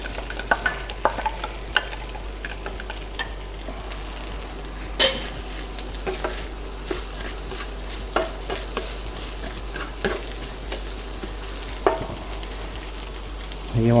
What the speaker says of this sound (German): So, dann kommen die Zwiebeln schon dazu.